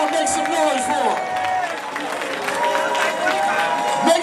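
Applause and cheering from a party crowd at a 65th birthday celebration, a steady wash of clapping and voices filling the room, with shouts and chatter mixed throughout.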